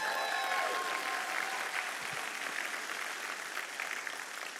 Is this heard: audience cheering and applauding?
yes